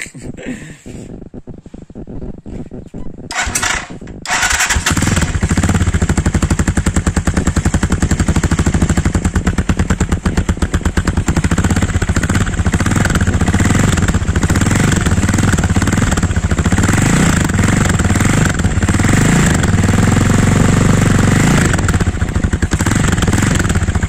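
A Gamma 200 motorcycle fitted with a Yoshimura muffler idles close by. It starts quietly and a little unevenly, then settles after a few seconds into a loud, steady, rapid popping exhaust burble that runs on without talk.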